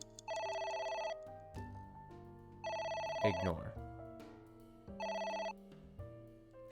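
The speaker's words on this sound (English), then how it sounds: "Phone rang." A telephone rings in the video game AI: The Somnium Files, three bursts of electronic ringing separated by pauses, with someone talking between and over the rings.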